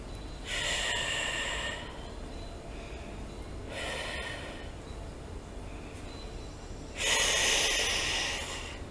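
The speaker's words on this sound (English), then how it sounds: "And take 3 deep breaths." Three slow, deep breaths during a guided meditation, each a long, airy inhale or exhale heard up close, separated by quieter pauses, with the last breath the loudest.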